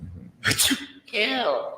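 A single loud sneeze bursts out, followed by a short voiced exclamation, in a boot camp barracks setting.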